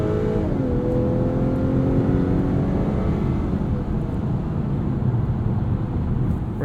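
A 2021 Acura TLX Advance SH-AWD's 2-liter turbocharged four-cylinder accelerates in sport mode, heard from inside the cabin as a steady, loud engine drone whose note rises and shifts through the run, with no voices over it.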